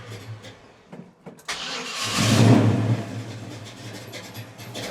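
A chopped Volkswagen car, nearly out of gas, cranks with a few short bursts, then catches at about two seconds and settles into a rough, fairly close idle.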